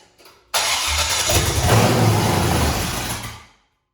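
A previously locked-up 6.0 LS V8 fires up abruptly after a few faint noises, then roars loudly for about three seconds with a slight rev before shutting off into silence.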